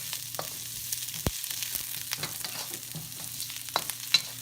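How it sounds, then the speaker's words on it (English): Quiet sizzling of vegetables stir-frying in a pan, with scattered clinks and scrapes as they are stirred. "you are actually stirring, you're not stir frying, right?"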